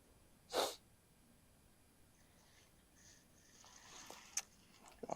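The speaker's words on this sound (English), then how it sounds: "I feel like I sniffle a lot." One person gives a single short, sharp sniffle close to the microphone, then a quiet room with faint breaths and small rustles.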